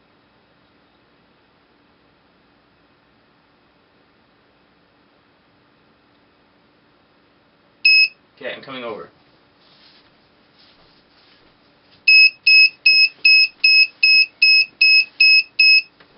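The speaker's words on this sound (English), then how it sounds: "So that's the alarm, and now it's resetting." A PIR motion-sensor alarm from a DIY electronics kit sounds a short beep, then after a brief voice nearby, a rapid burst of about nine loud, evenly spaced high beeps.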